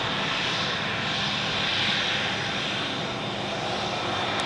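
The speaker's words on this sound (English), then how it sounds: "here we have the Global Express, taxiing close by" A Bombardier Global Express business jet taxis close by at Zurich Airport, its engines giving a loud, steady roar and whine that holds evenly throughout with no speech.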